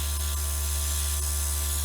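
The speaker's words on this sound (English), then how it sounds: "And now when I use the airbrush, I'm just going to turn it on here." An airbrush sprays watercolor paint over a stencil on a painting, giving a steady loud airy hiss over a constant low compressor hum, with no voices.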